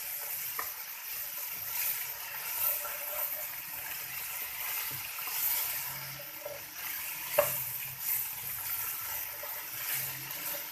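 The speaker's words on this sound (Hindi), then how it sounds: "और इसको पकाना है इसे 2 मिनट के लिए फुल फ्लेम पर।" Chopped vegetables for macaroni stir-frying in a pan over a full flame, a steady close sizzle with occasional scraping stirs and small clinks, no talking.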